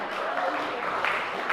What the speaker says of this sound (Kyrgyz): Кол чаап турабыз